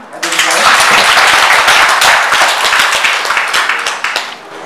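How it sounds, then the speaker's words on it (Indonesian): An audience applauds in a hall at an internship closing ceremony, a loud, full round of clapping that swells quickly and holds steady for several seconds before easing slightly. "Tepuk tangan."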